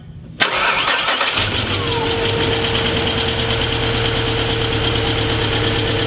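A V8 Volkswagen Touareg with a failing timing chain tensioner cranks and catches abruptly, then runs loud and close with a rough, uneven misfiring idle that continues steadily.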